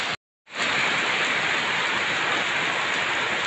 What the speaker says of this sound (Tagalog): Tignan nyo na ulan.